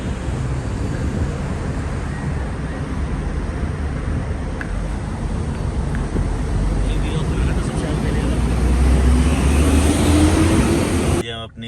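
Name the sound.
car interior while riding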